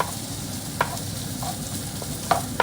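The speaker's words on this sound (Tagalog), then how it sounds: "Diyan tayo magigisa ng sibuyas" Chopped onion sautéing in a pan for ginataang langka, a steady soft sizzle with a few sharp spatula clicks against the pan, close and alone without talk.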